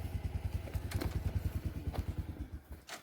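A motorcycle engine putters nearby with a rapid, even thumping pulse, with a few sharp clicks and rattles over it.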